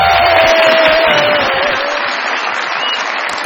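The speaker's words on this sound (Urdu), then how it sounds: "بہت ساری تالیاں میرے مہمانوں کے لیے جی" A television studio audience bursts into loud, sustained applause with some cheering for guests on a comedy show, a dense steady roar of clapping that stays strong throughout with no talk over it.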